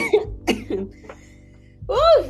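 Several sharp coughs come in quick succession from a nearby person, followed by a short pause and then a strained, voiced throat-clearing cough.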